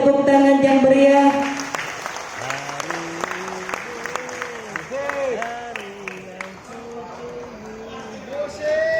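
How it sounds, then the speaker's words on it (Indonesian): A ceremony crowd applauds at an Indonesian village officials' association anniversary event with the regent present, lively clapping running under a loud amplified voice and tonal sound throughout. "Kita berikan tepuk tangan yang meriah."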